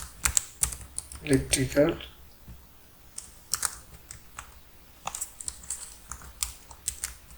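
Typing on a computer keyboard during an HTML coding lesson, with irregular bursts of close key clicks and a brief spoken word near the start.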